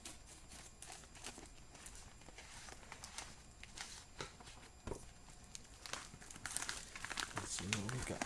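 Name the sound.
mail package being cut and torn open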